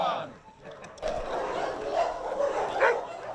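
Stray dogs in Taiwan bark a few times at a firefighters' adoption photo shoot, short yaps mixed into a busy background with voices around them.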